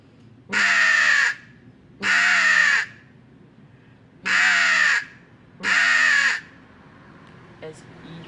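A hooded crow's recall call is imitated with a game caller: four loud, harsh caws close by, spaced in two pairs. A faint click follows near the end.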